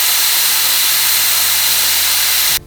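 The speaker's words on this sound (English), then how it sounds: "Now we finished deflating the tires." Air hisses steadily and loudly out of a 4x4 tire valve during deflation, a continuous broadband rush that cuts off abruptly near the end.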